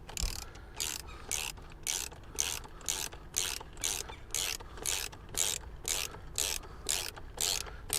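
Hand ratchet tightening an S&B cold side intercooler pipe clamp: a steady series of rapid clicking pawl strokes, roughly two per second, close and clear with no talking.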